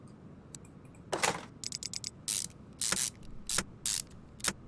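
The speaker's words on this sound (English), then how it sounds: "next we'll bolt up this transmission back on" A transmission being bolted back onto a car in Car Mechanic Simulator 2021, with bursts of rapid ratcheting and whirring tool sounds in short clusters separated by brief pauses, crisp and close.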